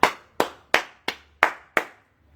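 Six sharp, evenly spaced hand claps close by, each crisp and ringing briefly, heard alone with no voices.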